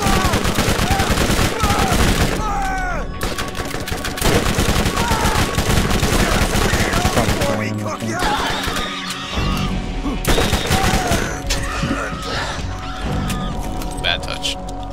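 Shotgun blasts from a first-person shooter game, fired in rapid repeated bursts, loud and up close, mixed with honking, squawking bird creatures and steady game noise throughout, with players chatting over the action.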